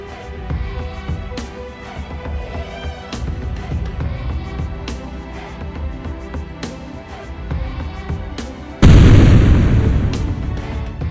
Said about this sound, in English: A precise strike. One explosion.